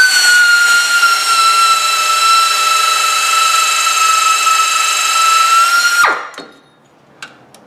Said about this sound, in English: She's a screamer. Oh yeah. She is, and we drilled right through a thick spot too.